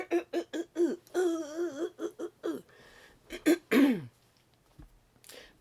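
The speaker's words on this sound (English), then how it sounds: "I was about to have a coughing attack" A woman clears her throat and coughs repeatedly in short, close bursts, with a few rough, hoarse throat sounds and a brief pause between the groups.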